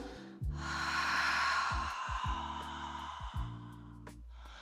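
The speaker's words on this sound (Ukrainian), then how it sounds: "Ми робимо вдих, спокійний і видих ртом." One calm, slow breath runs through a long airy inhale and then a mouth exhale, close and soft over a quiet sustained music bed.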